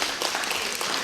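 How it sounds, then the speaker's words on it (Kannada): An audience at a theatre festival gives the Drishya theatre team a dense burst of applause, many hands clapping together loudly and evenly close by for a short moment. "ಜೋರಾದ ಒಂದು ಚಪ್ಪಾಳೆ"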